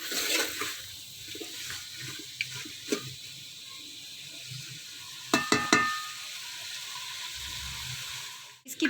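Beef pulao with green chillies frying in a pot gives a continuous steady hiss, broken by a few sharp metallic clanks of a utensil partway through; close and moderately loud, with no talking.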